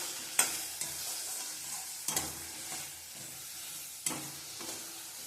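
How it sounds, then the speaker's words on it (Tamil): Chayote and onions being sautéed in a pan, a soft sizzle broken by several sharp spatula scrapes and stirs at irregular intervals, close but fairly quiet, with no talking. "இப்போ இந்த சவுச்சவு காயும் வெங்காயத்தோட சேர்த்து நல்லா வதக்கி விட்டுறலாம்"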